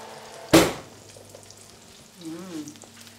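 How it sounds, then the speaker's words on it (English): Sausages fry in a pan with a soft, continuous sizzle, broken by one sharp clatter early on, while a voice speaks briefly near the end. "They're making that lovely noise that sausages do."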